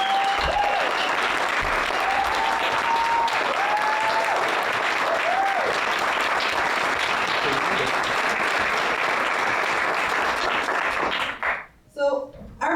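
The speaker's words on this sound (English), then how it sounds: "let's maybe start with just giving them a big round of applause for the last 11 months" An audience at a demo day gives a sustained round of dense applause that runs steadily, then thins and breaks off near the end, with a voice faintly present.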